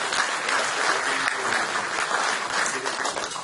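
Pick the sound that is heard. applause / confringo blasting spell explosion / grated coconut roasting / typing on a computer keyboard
applause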